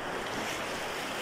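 Steady broadband wash of surf, with waves rolling in continuously and a bit of wind buffeting nearby, no voices.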